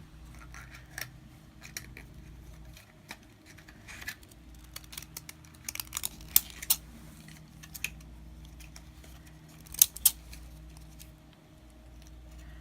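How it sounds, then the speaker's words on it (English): Decorative scissors snipping through paper in scattered, irregular cuts, close and fairly quiet, with small crisp clicks amid light handling noise. "You can use your decorative scissors also"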